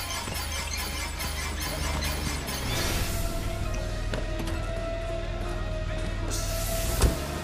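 A car crashes in the video game Friday the 13th: a loud, noisy grinding rush of scraping and shattering glass builds over several seconds, ending in a sharp impact near the close. No voices are heard.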